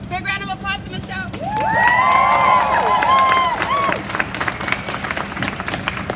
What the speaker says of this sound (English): Big round of applause to Michelle.